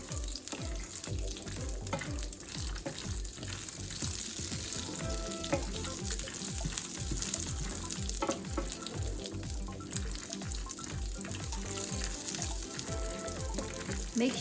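Peanuts roasting in hot oil in a pan over medium-low heat give a steady, busy sizzle dotted with sharp little cracks and occasional stirring, close and constant throughout.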